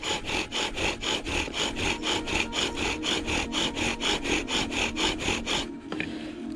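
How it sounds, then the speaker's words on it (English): Wooden spindle drilling and burning into a wooden board during friction fire making, a steady rhythmic back-and-forth grinding of about eighteen close, loud strokes that stop abruptly near the end. "I'll go until I can reach the full diameter of that spindle, until that full diameter burns into the wood."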